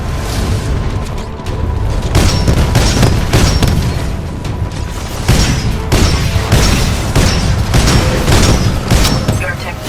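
Enemy units in Titanfall 2 fire weapons in heavy, booming volleys, repeated thumping shots and blasts throughout, with a commanding voice speaking over the barrage.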